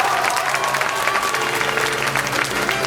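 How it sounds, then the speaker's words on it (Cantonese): Thunderous applause fills a hall from the audience at a university debate competition final, a dense continuous wash of clapping with crowd noise throughout. "你哋會再次爆發如雷嘅掌聲"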